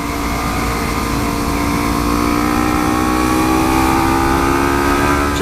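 A Kawasaki Ninja 300 motorcycle with an aftermarket slip-on exhaust accelerates, its engine note climbing steadily in pitch, loud and close throughout with no talk.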